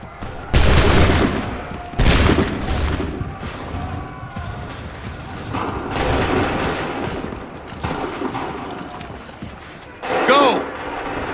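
Musket volleys in the colonial-era video game Assassin's Creed 3, several loud, sharp bursts of massed gunfire with gaps between them as a commander shouts orders and soldiers call out over the shots.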